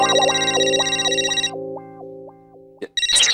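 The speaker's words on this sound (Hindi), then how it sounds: "ये टप्पू का फोन" A mobile phone ringtone plays loud and alone, a bright electronic melody of repeating rising tones that cuts off, followed by a brief clatter.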